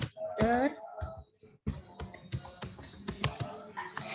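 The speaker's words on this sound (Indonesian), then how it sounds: "Mengetik dengan komputer." Keys on a computer keyboard tapped in an irregular stream of clicks during a beginners' typing practice lesson, with a voice speaking over the first part.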